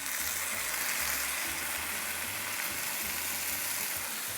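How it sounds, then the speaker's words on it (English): Loud, steady sizzling of beans frying in a hot pan for refried beans, a continuous crackling hiss with low clunks of stirring underneath. "And we love that sizzle."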